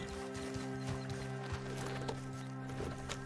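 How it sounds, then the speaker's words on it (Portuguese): Horse hooves clip-clop at a steady walking rhythm in Red Dead Redemption 2, quiet but distinct over a low, even game ambience with a hum underneath. "É o cavalo."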